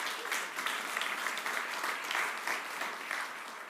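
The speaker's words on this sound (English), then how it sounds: "Can we give those a round of applause?" Dense, steady applause from an awards-night audience at the GovHack 2016 ceremony fills the whole stretch, many hands blending into an even wash with no pause.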